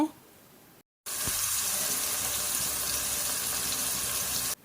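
Chopped tomatoes frying in a pan for an egg masala give a loud, continuous sizzle after a brief quiet gap, steady until the end.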